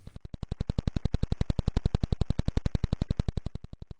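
A radio telescope recording of the Vela pulsar (PSR B0835-45): rapid, evenly spaced sharp pulses tick like a fast metronome, about nine per second, steady throughout with no other sounds.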